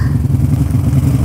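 A standard Yamaha Mio 110 cc scooter engine runs at high revs in a brief, loud, close burst of rattly, buzzing pulses.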